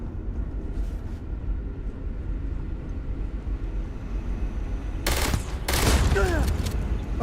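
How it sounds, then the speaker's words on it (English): Gunfire in the sci-fi video game Starfield, a constant low rumble of distant shooting followed by a couple of sharp, loud bursts near the end, with background game noise underneath. "Who are you shooting at, Sarah?"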